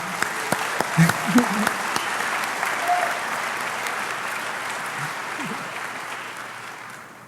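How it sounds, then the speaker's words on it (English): A hacking conference audience at DEF CON claps, a dense, steady round of applause with a few louder nearby claps early on, slowly fading toward the end. "Let's give them all a big round of applause for their first time."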